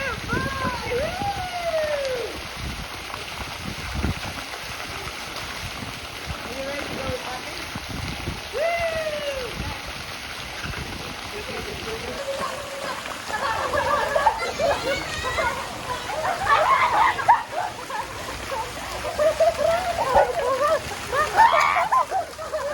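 People swimming and splashing at a beach during swim lessons, with steady surf wash and intermittent splashes, alongside voices talking and calling throughout.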